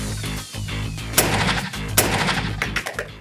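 Several sharp rifle shots ring out in quick succession, loud and close, with reverberant tails between them and no talking.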